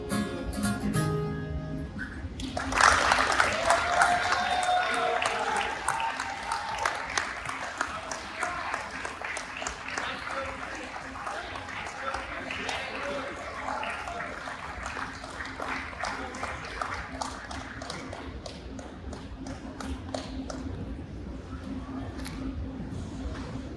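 A crowd claps for a performer after a song, the applause swelling suddenly after a brief musical ending and continuing as a long, steady wash of many hands at a moderate level.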